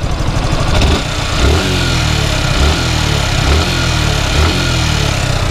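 A Suzuki Gixxer SF FI ABS motorcycle runs at a steady idle after a tappet clearance adjustment, its engine loud and close with a low rhythmic thrum and a couple of brief throttle swells.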